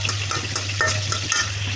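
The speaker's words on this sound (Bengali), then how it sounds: "এই তো পেঁয়াজ ছেড়ে দিলাম কড়াইতে। এখন পেঁয়াজটা ভালো করে কষিয়ে নেব" Onions sizzle in oil in a kadai, a close, continuous frying hiss with intermittent spatula scrapes and light metallic clinks as they are stirred, and a low steady hum underneath.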